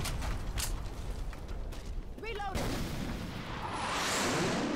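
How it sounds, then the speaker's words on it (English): A grenade launcher fires in Left 4 Dead 2, giving a loud, close boom, then a rattling mechanical creak and a rolling rumble that swells near the end, with game noise around it. "I shot you with the grenade launcher"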